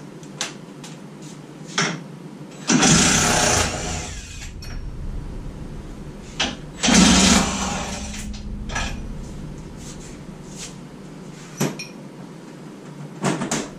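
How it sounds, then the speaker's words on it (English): Two short bursts of a power tool whirring, each about a second long, while working on a Jeep TJ, separated by quieter clicks and handling noises. "I'm going to use the power tool."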